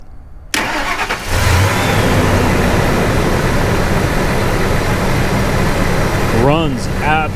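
Stock supercharged car engine idling steadily up close, a continuous low rumble with a faint whine, while someone talks over it.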